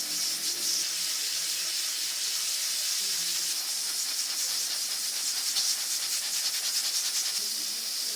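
A pressure cooker whistle on a stove while dal cooks lets out a steady, loud hiss of escaping steam that continues without a break throughout.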